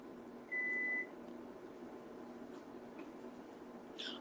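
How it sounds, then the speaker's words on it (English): A microwave oven beeps once, a clear steady tone lasting about half a second, over a quiet kitchen background hum, with a faint click near the end. "Oh, it's the microwave."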